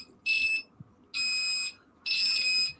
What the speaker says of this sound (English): remute those buzzers. I don't know how to do that.